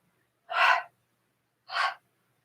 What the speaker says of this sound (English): So it goes exhale, exhale, inhale, inhale, in, in